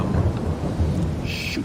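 Rain falls steadily with low rumbling thunder during a storm in the farming video game Farming Simulator 22, a continuous loud wash with no talking.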